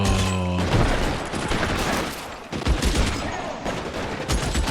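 Gunshots in the 1940s detective game L.A. Noire, a heavy run of overlapping close shots with loud booming impacts, following a brief musical tone at the start.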